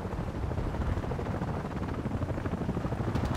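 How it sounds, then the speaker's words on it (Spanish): An AH-64 attack helicopter's rotor thumps steadily beneath a dense, roaring engine drone in the video game Battlefield Play4Free, close and sustained with no break throughout. "el helicóptero de combate"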